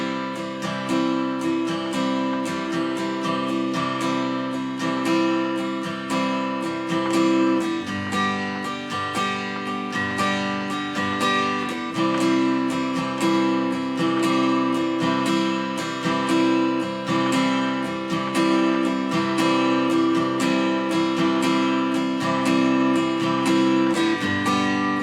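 Solo guitar strumming the verse of a song at regular tempo, a steady rhythmic chord pattern with even strums and chord changes, played alone without any voice.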